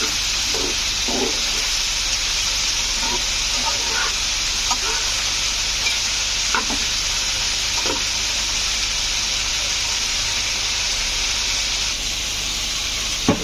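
Dried fish curry with eggplant sautés in a pan, giving a steady, moderate sizzling hiss throughout, with occasional clatters and brief voices nearby.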